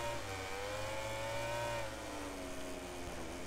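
Suzuki motorcycle engine in the MotoGP 18 racing game during the Qatar Grand Prix, a steady high-pitched whine that holds at high revs, then shifts and drops slightly, loud and continuous with no talking.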